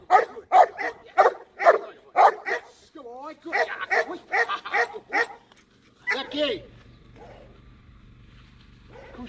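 A dog barks repeatedly in quick bursts up close, with a few whiny yelps mixed in, then quiets to a low murmur.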